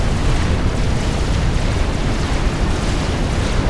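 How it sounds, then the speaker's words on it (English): Tactical missile launcher strike in a strategy game, a steady loud rumbling roar of explosions blending into a continuous dense blast with no clear gaps. "tactical missile launchers. They just took a commander."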